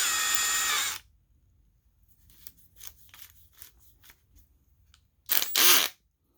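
Milwaukee M12 Fuel installation driver fitted with its drill chuck attachment, giving a loud whirring spin for about a second, a pause filled with faint handling clicks, then a second short burst.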